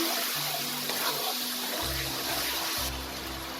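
Water pours steadily into a pan of butter chicken gravy in a home kitchen, a continuous splashing wash with low hum underneath, near and fairly loud.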